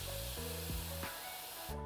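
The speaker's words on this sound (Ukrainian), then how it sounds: "Для цього наповнимо сотейник на одну третину водою" Water runs into a saucepan, a faint hissing spray with small pitch shifts as the pan fills, short and quiet.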